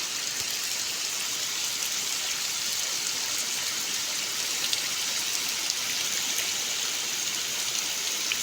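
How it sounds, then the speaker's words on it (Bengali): Heavy rain pours steadily over a beel wetland near the Manda river, a dense, constant hiss at even loudness with no voices. "খুব জোরে বৃষ্টি"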